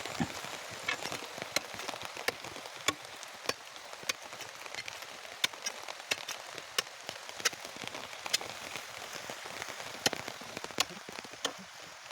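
Steady rain falls on a home compound while a pit is dug for planting a coconut sapling, a dense close hiss of drops broken by scattered sharp taps and clicks throughout.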